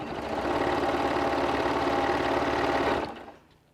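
An office sewing machine runs a back stitch through fabric and foam, a loud continuous mechanical whirr close by for about three seconds before winding down and stopping.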